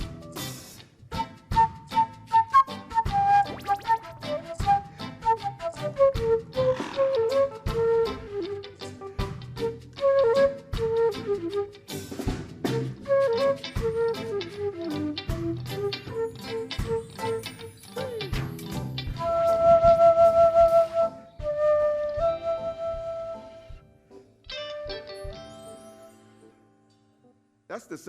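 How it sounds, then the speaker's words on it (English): A metal flute plays a quick melodic run of notes, then holds a few long sustained tones, with clattery percussive sounds mixed in, moderately loud and without speech. "That's the sound of the flute."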